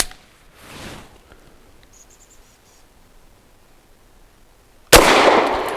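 A Grand Power K100 Mk23 pistol fires Fort Scott Munitions TUI solid copper rounds. Near-silence ends in one sharp, loud report and its lingering ring.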